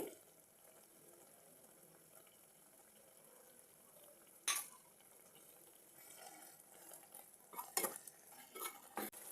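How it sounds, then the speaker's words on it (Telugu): A spoon stirs liver fry with coriander and green chillies in a pan, giving faint sizzling with a few sharper clinks of utensil against metal. "ఒకసారి బాగా కలుపుదాం"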